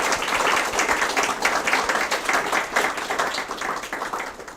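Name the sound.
audience applause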